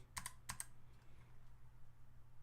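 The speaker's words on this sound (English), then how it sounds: "extreme satisfaction to hear these and feel these clicky switches" Clicky switches on a Planck keyboard are typed in a few quick bursts of sharp clicks, close and quiet, followed by a faint hum.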